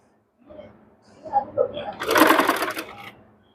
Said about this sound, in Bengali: মাঝখানেও আমি আরেকটা সেলাই দিয়ে নেব